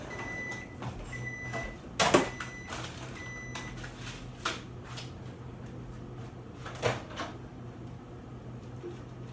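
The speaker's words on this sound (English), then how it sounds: "the broccoli actually just finished, so I'm leaving the microwave door open" Kitchen microwave oven finishing a cycle of broccoli with a series of short beeps, followed by clunks and clicks as its door is opened, over a low steady hum.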